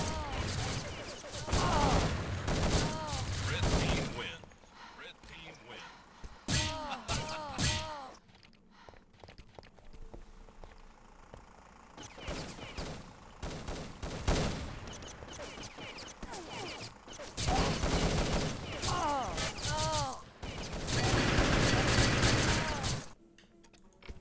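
Rapid bursts of weapon fire in a Quake freeze tag team match, dense overlapping shots in loud clusters separated by quieter gaps, under a commentator's voice.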